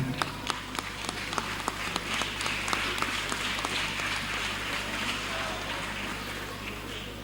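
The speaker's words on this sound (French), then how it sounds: "je veux nommer Madame Gemma Afoutou de Guénon, que je vous demande d'applaudir très fortement" A crowd at a school kit donation ceremony in Porto-Novo applauds, a few distinct claps at first swelling into steady, dense clapping over a low constant hum.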